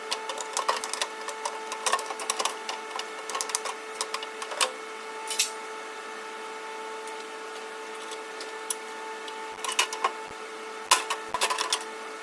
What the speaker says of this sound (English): we'll start just taking screws out, I guess.